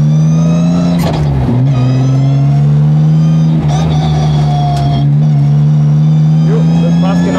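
Drift car with a fully sequential gearbox rolling along a drag strip, its engine a loud, steady close drone with small rises in pitch, under continuous talking.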